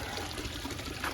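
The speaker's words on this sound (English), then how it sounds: "we definitely have water flowing through everything" Water running steadily through a pond pump and UV clarifier on a green garden pond, a constant close trickling and pouring wash with no voices.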